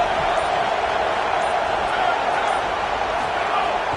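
A football stadium crowd roars in a steady, dense wash of noise that holds at the same level throughout, with a voice talking underneath.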